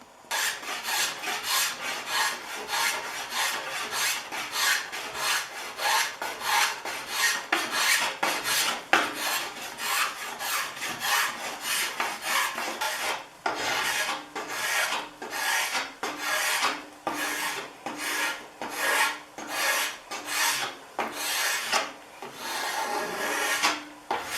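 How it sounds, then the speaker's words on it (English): A wood rasp scrapes steadily across the belly of a maple bow limb being shaped from lumber, making close, loud, rhythmic strokes. Fast continuous rasping gives way to slower, separated strokes with short pauses between them. No one speaks. "I still slightly radius my belly"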